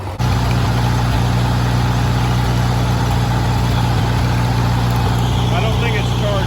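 A Ford 8N tractor engine, left sitting in weeds for over five years, starts and keeps running, a loud, steady low-pitched idle with a constant throbbing hum close by, without a break after a brief start.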